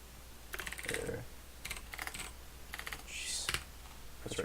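Someone types on a computer keyboard in uneven, hesitant bursts of close, crisp clicks, with short pauses between clusters of keystrokes and no talking.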